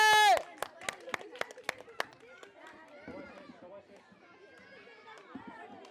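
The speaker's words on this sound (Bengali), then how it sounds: "জোরে হাততালি হবে" An audience at a balancing stunt show gives a quick run of sharp hand claps, which then trail off into crowd chatter and voices.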